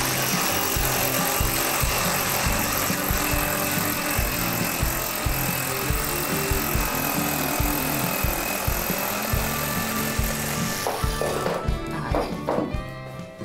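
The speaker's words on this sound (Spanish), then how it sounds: "con la sierra de calar cortamos" A jigsaw cuts through wood in a bedroom makeover, a loud, close, continuous buzzing rattle of the blade that runs for about eleven seconds before stopping, followed by a few softer knocks.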